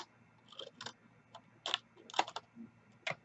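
New scissors snip something in a few short, crisp, quiet cuts spaced irregularly over a few seconds, close and isolated with no voices.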